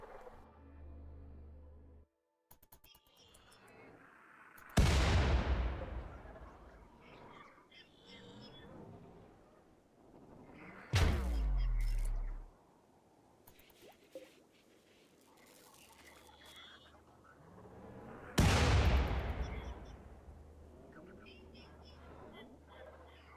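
Mortar shells fire and burst in the RimWorld Odyssey game on an iceberg sea-ice map: three heavy, booming blasts spaced several seconds apart, each with a long rumbling decay, over quiet ambience and occasional speech.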